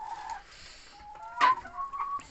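Chickens cluck and murmur nearby in a few short, soft calls with one louder squawk, alone without talk.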